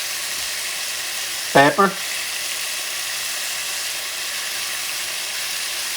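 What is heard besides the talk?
alligator stew ingredients sizzling in a pan while caramelizing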